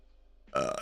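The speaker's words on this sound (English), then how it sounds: "Excuse me and my burping ways." A single loud burp erupts abruptly after near silence, close and alone, during a casual Liverpool versus Real Madrid Champions League watchalong.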